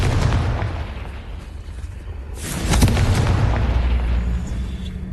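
A Confringo fire spell blast in the Hogwarts Legacy video game: a loud, close, booming burst with low rumble that swells around the midpoint and trails into a rolling roar, with no talking.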